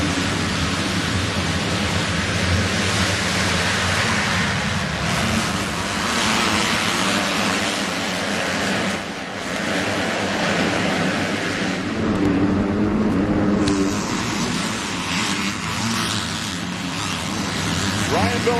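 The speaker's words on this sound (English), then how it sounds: "40 of the best motocross lights riders in the world are going to be heading down towards turn number 1 here at Budds Creek" Forty motocross Lites motorcycles at the 2007 AMA race at Budds Creek charge toward turn one, a dense, loud, sustained roar of engines that swells and fades slightly, with an announcer talking over it.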